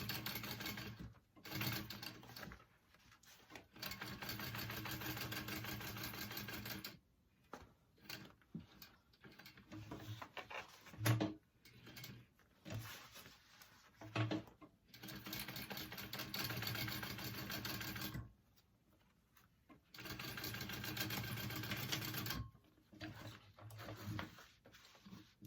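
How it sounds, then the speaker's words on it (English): A sewing machine topstitches along both sides of a seam on a tote bag at a long stitch length, running in several steady bursts broken by pauses and handling noise, with no speech. "we're going to top stitch on both sides of the seam"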